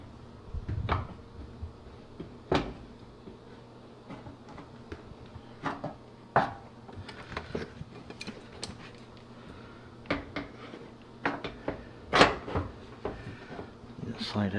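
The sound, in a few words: handling and fitting GE dryer front door panel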